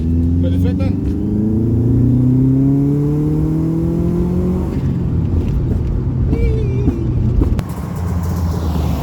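Subaru Impreza project car engine revving as it accelerates, a rising throaty drone that climbs in pitch for several seconds, then turns rougher with road and wind noise; a voice speaks briefly near the end.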